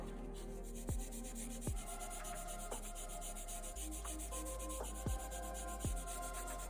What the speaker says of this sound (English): use the magic eraser and we're gonna clean the pins